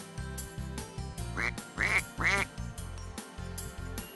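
A duck quacks three times in quick succession near the middle, bright nasal calls sitting over a continuous cheerful backing tune.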